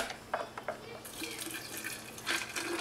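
Prickly pear and pineapple drink is poured in a soft, splashing stream that starts after a second and runs on steadily, with a few light clinks before it.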